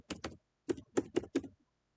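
Keys clack on a computer keyboard while logging in, two quick taps, a short pause, then a run of four crisp strokes close by in a quiet room.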